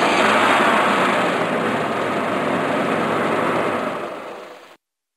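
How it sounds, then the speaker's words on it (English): A truck engine idles with a loud, steady low rumble and broad noise. It holds an even level, then fades and cuts off abruptly near the end. "Truck."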